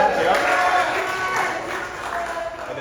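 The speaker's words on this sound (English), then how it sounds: "give him a round of applause" Crowd applause at an All GM car show at a Chevrolet dealership, a steady broadband wash of clapping and cheering under continuing talk from an announcer and nearby voices.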